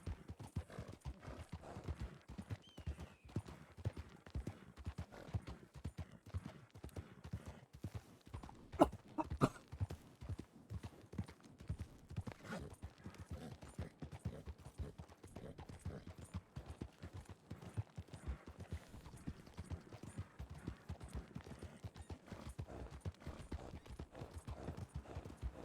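Video game horse hooves clip-clop in a fast, steady rhythm for a long stretch, crisp and close, with a brief louder knock midway.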